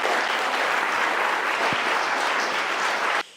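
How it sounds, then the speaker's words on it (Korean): An audience claps warmly to welcome the mayor of Jinju, South Korea, to a university special lecture: dense, steady applause for about three seconds, then it stops abruptly. "그럼 지금부터 기적의 도시 진주라는 주제로 강의를 해주실 조규일 진주시장님을 큰 박수로 맞이해 주시기 바랍니다."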